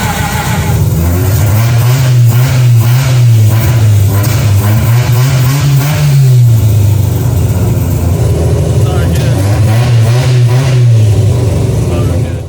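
A fake Lamborghini kit car's engine runs loud and close, rising and falling through several rev swells over a steady mid-pitched drone, with a voice speaking over it in places.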